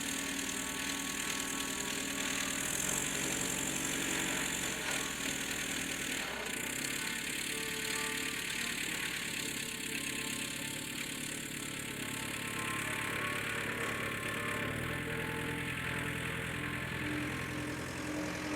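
Mercedes MB trac 900 compact-series tractor engine running steadily under load while pulling a wood trailer of about 6 tons out of a forest, a continuous mid-pitched drone at moderate distance.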